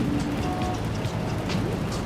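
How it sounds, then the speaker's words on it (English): Rain falls in a Grand Theft Auto video game, a dense, steady hiss of drops that stays even and fairly loud throughout, with no speech. "It also doesn't help that it's fucking raining."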